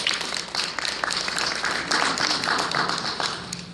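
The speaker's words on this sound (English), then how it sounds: "Let's give Chris a round of applause." An audience at a council member's State of District 3 address gives a round of applause, a steady patter of many hands clapping that fills the room for a few seconds.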